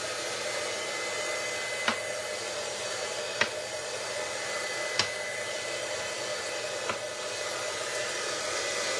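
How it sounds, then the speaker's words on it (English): A heat gun for embossing powder runs as a steady, close blowing hiss throughout, with a few faint clicks or taps rising briefly above the constant airflow. "I am going to turn my heat gun on and let it get warm."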